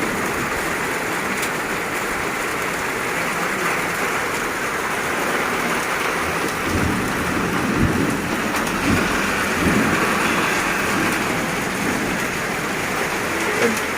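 Heavy rain pours down steadily in Sambalpur, close and loud, with low rumbles of thunder rolling beneath the downpour. A voice can be heard faintly under the rain.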